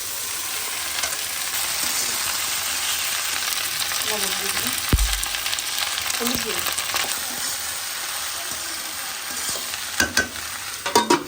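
Okra and vegetables frying in a pan, a continuous close sizzle with occasional stirring clinks, while people converse nearby over it.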